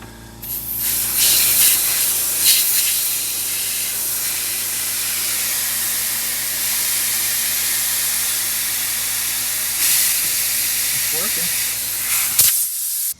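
Brake cleaner from an aerosol can blown through a brake line on a barn-find VW Beetle, a long, loud, steady spraying hiss lasting most of the time before cutting off abruptly near the end.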